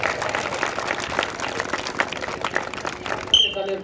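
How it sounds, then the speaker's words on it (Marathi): An audience claps in steady applause to welcome children at a school field display of drills and cultural performances, with an announcer speaking over it. "सर्वांनी टाळ्याच्या गजरामध्ये त्यांचं स्वागत करायचंय."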